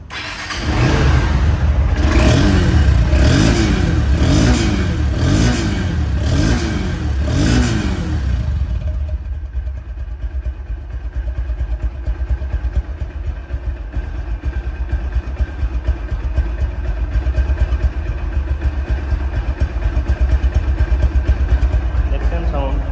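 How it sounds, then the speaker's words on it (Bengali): A second-hand 2022 Honda X-Blade motorcycle in showroom condition revs hard in a rapid series of loud throttle blips for about nine seconds, then drops to a steady, rumbling idle up close. "বাইকটি সাউন্ড কোয়ালিটি শুনলে আরও অবাক হয়ে যাবেন দেখেন সাউন্ড কোয়ালিটি শুনে দিছি"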